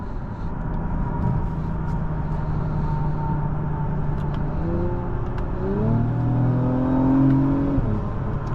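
A 2023 Acura TLX Type-S accelerating from inside the cabin, engine drone building into a climbing rev with rising pitch and a brief shift near the end, steady and fairly close, with no talk.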